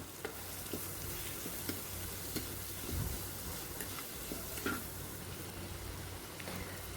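Onions going into a pan for a sardine dish and frying, a steady low sizzle with occasional stirring clicks, no talk over it.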